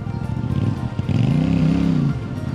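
A motorcycle revs hard and repeatedly as its rider attempts skids on a road in Corsica, the engine note rising and falling loudly up close, with no talk over it.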